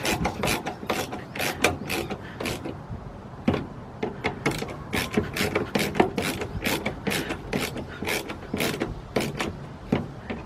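Screws being driven into plastic to fasten a window regulator on a Mercedes-Benz ML350 rear door, a series of short scraping, ratcheting bursts in an uneven rhythm, close and fairly loud.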